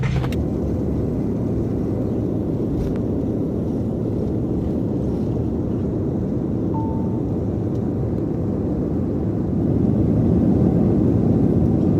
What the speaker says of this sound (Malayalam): ഫ്ലൈറ്റ് സ്റ്റാർട്ട് ചെയ്ത് ഇങ്ങനെ സെറ്റായിട്ട് ഇങ്ങനെ വരാണ് ടേക്ക് ഓഫിന്